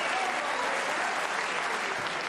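A snooker crowd in the video game Snooker 19 applauds Ronnie O'Sullivan's break with steady, dense clapping that fills the room at a constant level.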